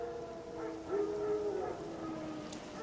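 Faint, drawn-out howls of wild dogs in the video game The Witcher 3: Wild Hunt rise and fall in the distance over a low ambient hum, several overlapping wails.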